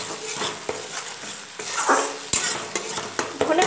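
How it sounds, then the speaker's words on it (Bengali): Masala being stirred and fried over a low flame for a Bengali bhola fish curry, a steady close sizzle broken by repeated scraping and clinking strokes of a spoon against the pan, with no talking. "সিম রেখে ভালো মতো নেড়ে নেড়ে মশলাটাকে আমার কষিয়ে নিতে হবে"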